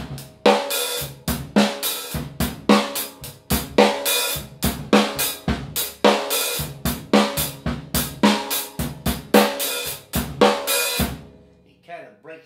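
A drum kit plays a broken eighth-note ride cymbal pattern, with sharp cymbal and drum hits in a steady, loud, choppy rhythm that stops just before the end.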